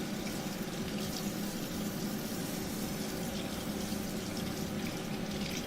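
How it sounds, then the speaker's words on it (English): Water runs steadily from a tap into a sink while fixing a Miele washer that won't drain, a constant close splashing rush with no pauses or voices. "Just running water down through there."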